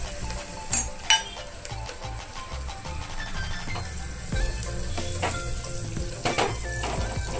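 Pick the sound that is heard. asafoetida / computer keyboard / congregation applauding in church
asafoetida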